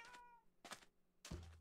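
A cat meows in the video game Minecraft, three short meows spaced across the moment, the last followed by a low thud; no talking.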